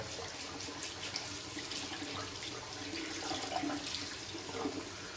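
A shaving brush is rinsed under a running tap, with a steady, fairly faint rush and splash of water into a sink that continues throughout without speech.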